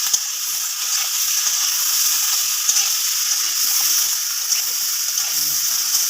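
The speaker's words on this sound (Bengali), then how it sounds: "তো দেখো এবার আমি বেগুনগুলো দিয়ে দিচ্ছি, দিয়ে খুব সুন্দর করে নেড়ে নেবো।" Eggplant pieces sizzle steadily in hot oil for a fish curry, a constant loud frying hiss with occasional scraping clicks of stirring, no voices.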